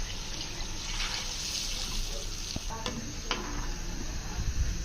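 Water poured into a pot of spiced fried chickpeas for pulao splashes and sizzles steadily, with faint stirring clinks over the bubbling hiss.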